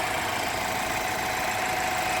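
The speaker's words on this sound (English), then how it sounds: "Get a little noise from that little engine." A BMW X3 xDrive28i M Sport engine runs at a steady, even drone with no clear rise in pitch, close and continuous.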